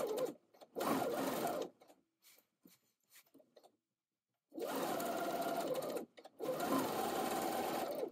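A sewing machine straight-stitches dress shoulder seams in bursts: a short run, a longer one, then two long runs separated by a quiet pause filled with faint handling sounds.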